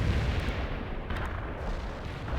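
Deep missile launches and rumbling explosions on a World in Conflict battlefield, a heavy sustained boom with a sharper crack near the middle, loud and close.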